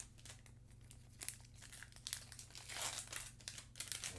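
A Magic: The Gathering Kamigawa Neon Dynasty booster pack wrapper crinkles and tears close up, in quiet bursts of crackling foil over about four seconds.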